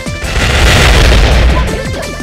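A loud, sustained booming blast from a bomb in the Bomberman video game rolls and crackles continuously, dense and close, tapering slightly at the end.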